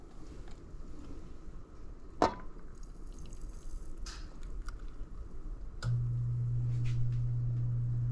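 Flan custard pours in a soft, quiet stream into a caramel-lined mold with a few faint drips, and a steady low hum comes in partway through.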